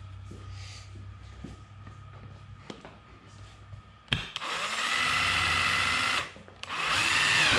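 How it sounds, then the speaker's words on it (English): A power drill bores a hole into a skull for a creepy skull rocking chair project; after some quiet handling clicks, the drill whines up loud and close, pauses briefly, then runs again steadily. "And let's drill a hole."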